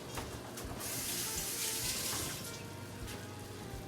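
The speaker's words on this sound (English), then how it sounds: "let me wash my hands real quick." Hands are washed under a running kitchen tap in a home kitchen, a steady close gush of water splashing continuously with no talk.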